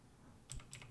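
Light, quick keystrokes on a computer keyboard at a Windows 11 PC, a few soft clicks in a short burst, close and quiet.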